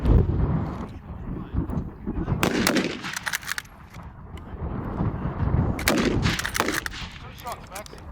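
Rifle shots from an 03A3 fired at a 200 m shooting match on a windy day: two sharp bursts of loud reports about three seconds apart, set against steady wind rumble on the microphone, with some voices in between.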